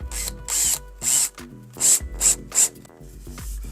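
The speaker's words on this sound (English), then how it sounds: "holding things with hands, drilling things with screws" A power drill drives screws into wood while a pergola is built over a hot tub. It whirs in several short bursts separated by brief pauses, close and moderately loud.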